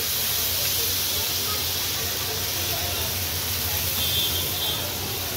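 Jowar dosa batter spread onto an oiled hot pan sizzles loudly and steadily, a dense even hiss that holds without a break, with no talking.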